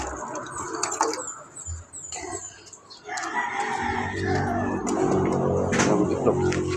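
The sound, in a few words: chicken clucking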